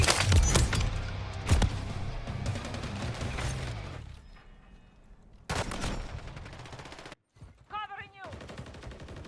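Heavy blasts from a grenade going off in the Call of Duty: Modern Warfare III video game, loud booming bursts mixed with rapid gunfire, then a quieter lull and more sharp cracks near the end.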